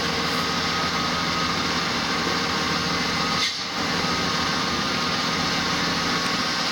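A Ford Mustang engine, a car from the '79 to '04 model years, idles steadily with the power steering system being worked, giving a continuous engine hum with a faint high whine and one brief dip midway.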